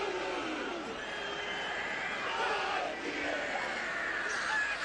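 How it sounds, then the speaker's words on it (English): A packed stadium crowd roars loudly as the All Blacks perform the Haka before their November 2024 autumn international against England, with a continuous distant wash of cheering and yelling and the chanting barely audible beneath it. "Here comes the Haka."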